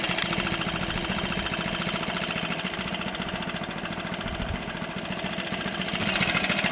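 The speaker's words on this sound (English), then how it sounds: "This was my first backpack blower I ever bought." A backpack leaf blower, an older model, idles steadily with a throbbing two-stroke putter, close and fairly loud, holding an even level with a slight rise near the end; no one speaks.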